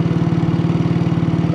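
A motorcycle engine idles up close in the mountain wilderness of Manang, Nepal, giving a steady, low, rhythmic putter that runs on its own without pause.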